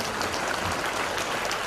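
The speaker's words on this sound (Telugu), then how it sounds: "అంటే క్లాప్స్ కొట్టండి" Audience at a school event in Siddipet applauds steadily, a dense, continuous wash of clapping with no pauses, fairly loud and filling the whole moment with no talk over it.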